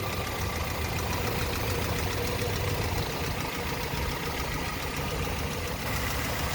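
The engine of an old Toyota truck with about 205,000 miles idles loudly and steadily up close, a continuous rumbling drone with a slight knocking texture and no speech.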